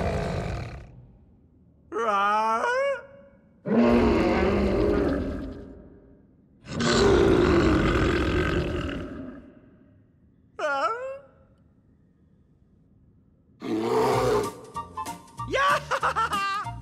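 Cartoon bear roars and growls come in several loud, drawn-out bursts with gaps between them, mixed with grunting and chuckling vocal sounds from animated characters.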